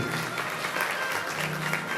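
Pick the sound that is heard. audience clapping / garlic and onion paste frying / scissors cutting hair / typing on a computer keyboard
audience clapping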